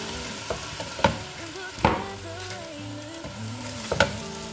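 Purslane frying in a pan for a Turkish vegetable dish, a steady sizzle broken by several sharp knocks and scrapes from stirring, close and without talk.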